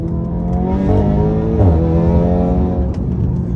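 A wrecked Audi R8 engine revs steadily in a garage while burning off oil in its intake, a loud, sustained mechanical drone that swells and dips slightly, with no voices over it.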